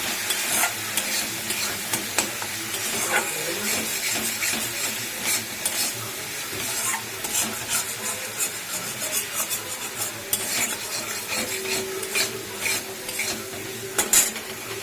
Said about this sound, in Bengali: কালো জিরে ফোড়ন দিয়ে কাঁচা লঙ্কা দিয়ে নুন, একটু হলুদ আর একটু এই যে জিরের গুঁড়ো আর একটু টমেটো দিয়ে একদম